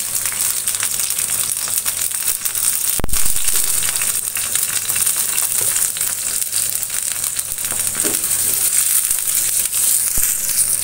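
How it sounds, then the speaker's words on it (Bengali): Chopped onion dropped into hot oil with bay leaves while cooking taro greens (kochu shak), giving a steady, close, dense sizzle and crackle that runs throughout, with a brief louder burst as the onion goes in. "এবার দিয়ে দিব পেঁয়াজ কুচি"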